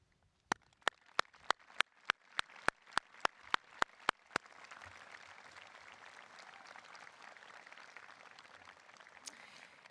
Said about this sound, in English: I call upon you, the senior class, to offer them a round of applause